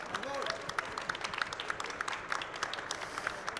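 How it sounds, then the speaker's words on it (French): An audience applauds a trophy winner at a French awards ceremony, with a steady patter of many hands clapping at moderate distance and a voice speaking over it at the start. "Et je vous demande de l'applaudir"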